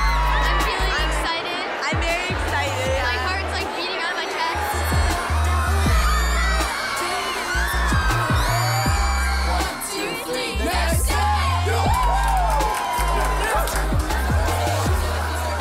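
A large crowd of fans at The Next Step Hit the Floor Tour screams and cheers without pause, loud and dense, layered over booming music and a wash of voices.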